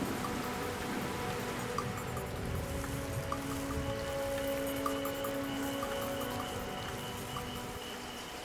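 Rain falls steadily on the dry African plain, a soft continuous patter with scattered drips. A low tonal hum runs beneath it, and there are no voices.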